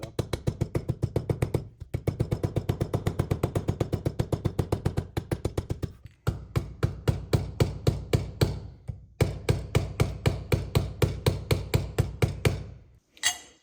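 Sharp, rapid taps strike gasket material laid against an aluminum edge on a turbo CFMOTO UForce 1000 build, cutting the gasket out: close, steady series of knocks in several runs separated by short pauses, no talking.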